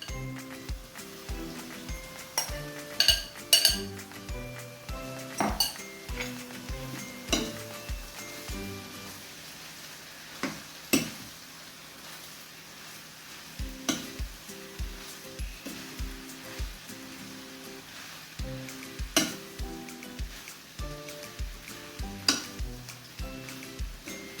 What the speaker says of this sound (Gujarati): મેં 1 કપ બાસમતી રાઈસ કૂક કરી લીધા છે, એને આપણે એડ કરીશું